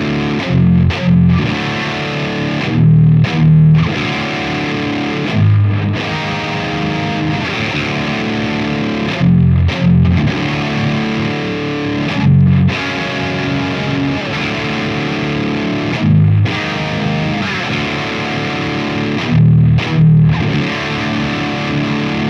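A Laney Loud Pedal, a dual-channel 60-watt guitar amp in pedal form, plays high-gain distorted guitar through a speaker cabinet: loud, thick chugging riffs with repeated accented hits and brief gaps, no voice.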